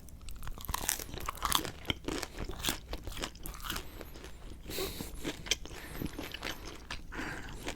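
Crunchy Papa Murphy's bread from a pepperoni pizza being bitten and chewed close to the microphone, a run of quiet crisp crunches and soft chewing with no talking.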